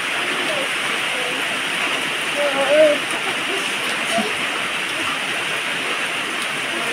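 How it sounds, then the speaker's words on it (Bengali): Water is poured into a pot on a gas stove while making tea, producing a steady, loud rushing splash that stays even for several seconds. "গ্যাসটা অন করে নিই, চাটা আগে বানিয়ে নেবো। জল দিয়ে দিই।"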